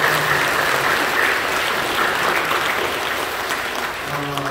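A church congregation at a Sunday worship service claps in sustained applause, dense and even, with the clapping tapering slightly near the end.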